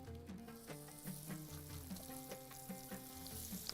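Fish sizzles in hot oil in a pan for Bahraini matfi safi, a steady quiet crackle with a few light clinks, and no voices.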